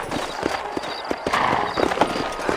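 Horse hooves clip-clopping in a Western video game, a quick irregular rhythm of hard close steps, with a horse's neigh rising briefly partway through.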